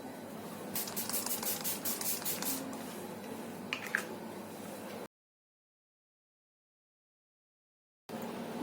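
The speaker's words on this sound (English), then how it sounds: "now I will set my face with the Swiss Beauty Makeup Fixer" Swiss Beauty makeup fixer setting spray misted onto a face in a quick run of short, close, hissing spritzes, followed by a small clatter and then silence.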